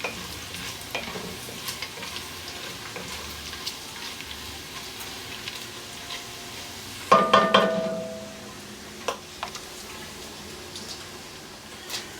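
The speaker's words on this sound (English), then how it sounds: "This bacon's almost there, so you want to get this crisped up really good" Bacon crisps in a pan with a steady soft sizzle, then a loud burst of scraping and crackling as it is stirred, after which the frying settles back to a gentle hiss with occasional pops.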